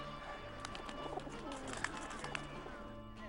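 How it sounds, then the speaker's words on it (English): Pigeons coo softly in St Mark's Square, Venice, a low murmur set in a distant, steady crowd ambience, with a few faint chirps above it. "And now we're here, together, feeding pigeons"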